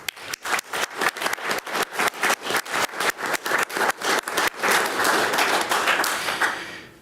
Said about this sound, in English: These things and more, I think, deserve some retrospective applause,